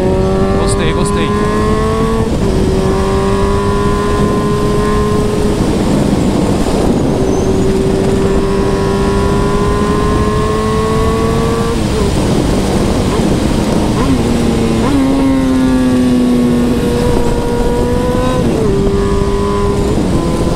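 A Suzuki B-King motorcycle engine runs steadily through curves near Morungaba, its drone rising and falling with gear changes over about twenty seconds, loud and close, with wind noise throughout.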